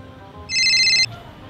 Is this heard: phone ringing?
yes